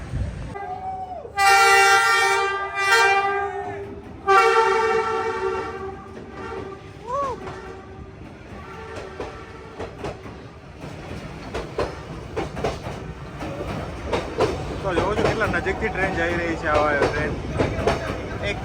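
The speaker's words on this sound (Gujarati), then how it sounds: "અલગ અલગ ટ્રેન આવે છે એ બધું અહીંયાથી જ નીકળશે" A train passes close by along Train Street in Hanoi, Vietnam, sounding two long, loud horn blasts, followed by rumbling and clattering wheels on the rails, with faint voices in the background.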